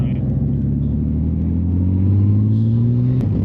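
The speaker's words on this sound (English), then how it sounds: "It's an 1800cc engine." Steady, loud low rumble from a horizontally opposed 1800cc Honda Gold Wing motorcycle engine of about 125 horsepower while riding, with a rising drone that climbs in pitch near the end as it accelerates.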